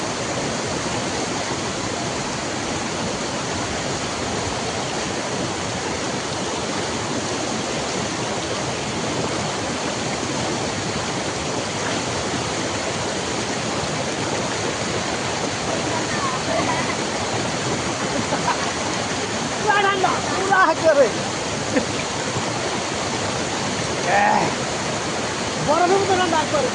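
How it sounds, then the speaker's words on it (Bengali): A waterfall pouring down from above, a loud, continuous broadband roar of falling water that fills the whole scene, with a few brief splashes or knocks near the end. "দেখেন উপর দিয়ে কি পানি পড়তেছে।"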